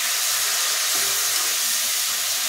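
Tomato with cumin, turmeric and coriander powder, green chilli and salt sautéing in a pan, giving a steady, close broadband sizzle and hiss that runs unbroken with no talk.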